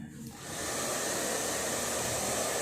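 A hair dryer switches on after a brief quiet moment and then blows at a steady, loud, close whoosh without pause for the rest of the time.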